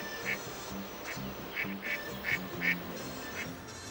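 Ducks quack softly in short scattered bursts at a distance by a canal lock in Burgundy, France, over a steady background hiss of outdoor ambience.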